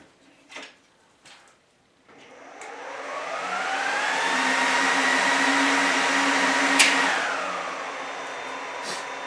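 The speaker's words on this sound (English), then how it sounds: "So let's start up the server." A home-built server powering up, its fans spinning up into a loud steady whir that rises in pitch and holds, then begins to ease, after a few soft clicks and knocks.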